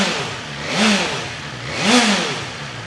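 A BMW S1000XR motorcycle's exhaust revs twice to around 6,000 RPM, each loud rising blip sweeping up and dropping back over a droning idle, close by with no voices.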